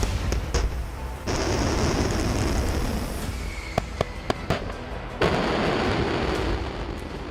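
A rocket launch in the Russo-Ukrainian war, heard as a loud, sustained roaring rush. Several sharp cracks and bangs punch through around the middle, and the roar surges again toward the end.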